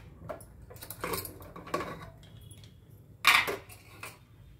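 A metal lid comes off a cooking vessel after kalathappam has steamed, quiet clinks and taps, then one louder metallic clatter near the end, with no talk.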